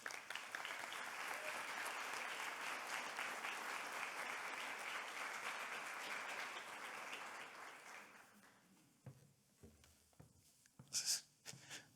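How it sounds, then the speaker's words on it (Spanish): An audience at an evening finance talk gives a dense, sustained round of applause for the presenter. The clapping fades out after about eight seconds, leaving a few scattered claps and small rustles. "Un fuerte aplauso para Jorge Casares."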